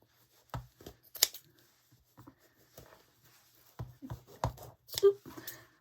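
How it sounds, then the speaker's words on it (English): Scissors snipping through fur for a spring craft, a few quiet scattered cuts and rustles close by, with faint handling noise between. "I think I'm going to need a bigger scissors."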